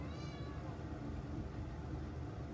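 A cat meows indoors near a bathroom sink, a short cry near the start with a soft ongoing background hum; faint and close, no speech over it.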